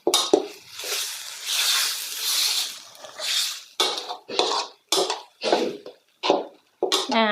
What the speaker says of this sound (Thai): เดี๋ยวผัดให้เนื้อหมูสุกก่อนนะ